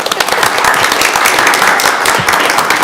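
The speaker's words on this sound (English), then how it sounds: "Can we applaud?" Loud, close applause from a board of education meeting audience, a dense wash of clapping with distinct nearby hand claps, continuing steadily for about three seconds.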